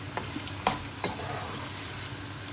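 Korma paste frying in a pan for chicken korma, a steady soft sizzle broken by a few distinct scraping stirs of a spoon in the first second.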